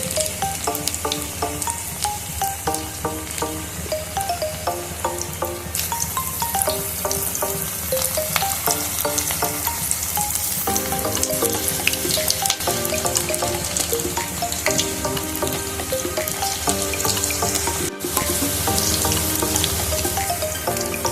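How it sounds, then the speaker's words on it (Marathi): Onion bhaji fry crisp in hot oil over a high gas flame, with a continuous loud bubbling sizzle throughout; a faint melodic tune plays underneath and no one speaks. "गॅसची फ्लेम हाय ठेवायची आहे त्याच्यामुळे आपली भाजी छान क्रिस्पी होईल"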